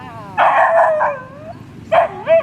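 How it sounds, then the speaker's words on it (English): Dogs on Siargao Island guarding their territory: loud, close barks and howling yips in two bursts, separated by a short pause. "they are quite barky, they're protecting their territory"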